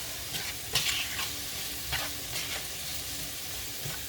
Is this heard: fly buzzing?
no